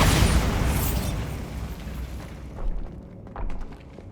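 A Bombarda spell explosion in the video game Hogwarts Legacy, a heavy booming blast with a sharp onset that rumbles and decays over several seconds, with small debris-like pops trailing after.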